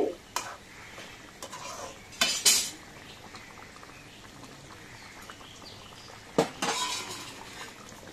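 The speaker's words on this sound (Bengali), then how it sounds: "এখন রান্নায় দিয়ে দিলাম মাছ, একটু নেড়ে চেড়ে" Koi fish in a potato and tomato curry stirred in a pan, with scraping and clinking of the utensil in bursts over a soft sizzle, loud strokes near the start and again toward the end.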